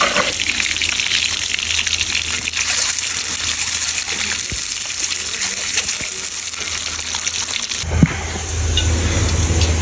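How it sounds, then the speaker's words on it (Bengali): Water pours into a pan of chicken curry in a home kitchen, a steady splashing gush lasting several seconds, close and fairly loud, ending with a brief clatter near the end. "এই চিকেনের তরকারির মধ্যে সামান্য একটু পানি দিয়ে দিলাম"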